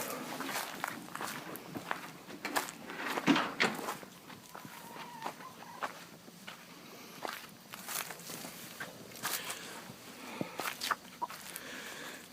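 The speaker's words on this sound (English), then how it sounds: "throw some seed out to the chickens." Chickens in a farm chicken yard cluck and chatter in scattered bursts, with footsteps crunching nearby and soft rustling between the calls, all at a fairly low level.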